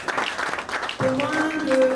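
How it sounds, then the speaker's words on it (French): Wedding guests at an official ceremony clap briefly for the groom's witnesses, a short burst of applause mixed with voices and a sustained tonal sound. "Veuillez applaudir pour eux,"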